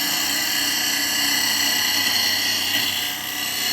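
A bowl gouge takes a hefty cut on a wood lathe, giving a steady, loud, broadband tearing hiss with a high whine that holds evenly the whole time, dipping briefly near the end.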